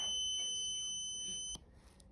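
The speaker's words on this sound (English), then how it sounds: "the active buzzer also sounds" An active buzzer wired with a red LED and a switch in a simple electronics circuit gives a steady, high-pitched electronic tone, faint and unbroken, that cuts off abruptly about three-quarters of the way through.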